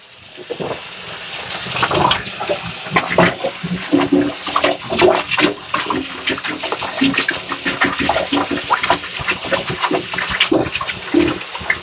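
Water gushes and sloshes while rinsing out a rusty fuel tank from a 1970s Honda CR125 Elsinore, a continuous splashing wash with uneven surges and bursts, close up and with no one talking.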